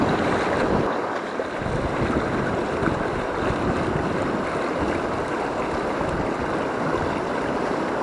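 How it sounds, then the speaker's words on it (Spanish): Strong wind on a fishing trip in the northern Pyrenees roars steadily across the microphone, a loud, unbroken buffeting rush with a faint watery wash beneath it. "vaya viento"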